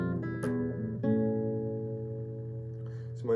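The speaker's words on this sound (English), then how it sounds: "we're just going to play that finger picking rhythm and descend all the way down chromatically" A guitar plays a finger-picked intro, picked notes ringing close and clear over sustained tones and stepping down in pitch a half step at a time across a few seconds.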